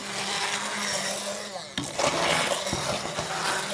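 A blender whirs steadily through a salsa of tomatoes with coarsely chopped onion and garlic, its drone dipping briefly partway before surging back harder and choppier as the blades catch the chunks.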